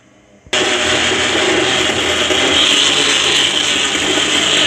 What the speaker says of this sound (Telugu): మిక్సీలో మజ్జిగ లవంగాలు అవన్నీ వేసేసి పెట్టేసింది అయితే మిక్సీకి గోరింటా పెట్టేసింది